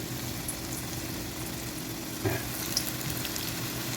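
Wheat and potato sticks fry in hot oil, a steady close sizzle and crackle running the whole time with one brief louder pop partway through.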